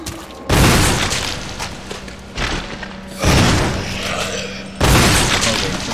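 Several loud, booming gunshots in the video game Resident Evil Remake ring out in quick succession with sharp attacks and lingering tails, each blast filling the soundscape with no talking.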